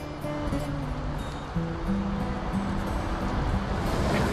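Waves wash steadily onto a North Sea beach at St. Peter-Ording, where buildings on stilts line the shore, making a constant broad hiss and rush, with low engine-like hum and faint scattered sounds mixed in.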